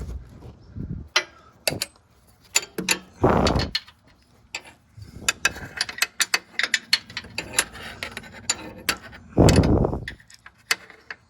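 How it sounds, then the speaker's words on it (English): A ratcheting wrench worked on the high-pressure power steering line of a 2003–2005 Honda Pilot, with irregular clicks, clanks and metallic bursts of ratcheting, close and uneven with quiet gaps between. "See if I can get my wrench in there"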